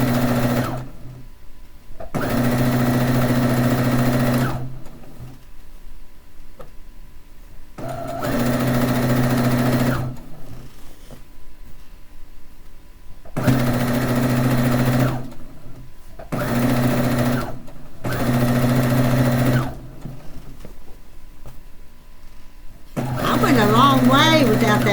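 A sewing machine stitches a quilt border in several loud, steady runs of rapid whirring, separated by short pauses, with a voice briefly heard near the end.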